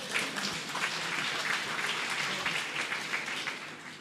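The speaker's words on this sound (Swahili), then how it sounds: "Tumpigie makofi hata kama." Audience applause at a public talk, dense steady clapping from a crowd that fills the whole stretch at moderate volume, with no speech over it.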